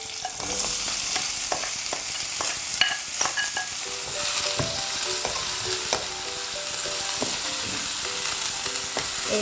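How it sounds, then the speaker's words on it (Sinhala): Beetroot frying and being stirred in a pan with curry leaves, green chillies and salt, steady sizzling throughout with scraping spoon strokes and clinks recurring at irregular intervals, close and alone with no talk. "පොඩ්ඩක් මේ විදිහට කලවම් කරලා බීට් ටික එකතු කරගන්න"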